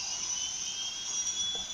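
A steady, high airplane engine whine drones continuously inside the Roblox game RO Force, even and unbroken at moderate loudness.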